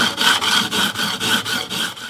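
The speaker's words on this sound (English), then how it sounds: "Now I'm just running a 180 levelling beam" A 180-grit levelling beam rubs along the side of guitar frets in rhythmic back-and-forth strokes, about eight even scratchy passes, close and fairly loud with no talk.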